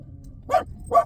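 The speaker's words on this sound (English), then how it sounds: "Stop barking at people." Two sharp dog barks, fairly close and a half-second apart, over quiet room tone indoors at a house.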